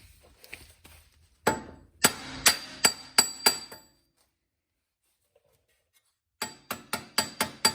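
A light hammer strikes a BMW E39 front wheel bearing with sharp metallic blows, one run of about six fairly evenly spaced hits, a pause, then another quick series of five or six.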